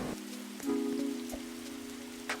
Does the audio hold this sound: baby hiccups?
no